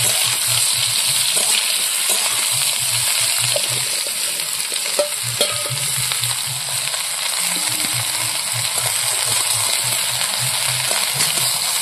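Red water lily stalks fry in hot oil, giving a steady close sizzle with occasional stirring scrapes and clinks of a utensil against the pan.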